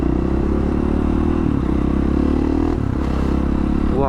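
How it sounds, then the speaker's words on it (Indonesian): A Husqvarna 501 motorcycle engine runs at a steady idle, close and loud, with a constant low rumble and faint mechanical clatter and no talk. "lihat motor baru nih."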